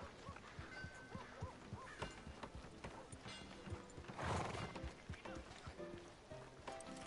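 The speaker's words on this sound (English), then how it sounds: "Where can I hitch my horse at?" Horse hooves clip-clop steadily in the Red Dead video game, with a brief neigh partway through, set against ambient game sounds and faint background voices.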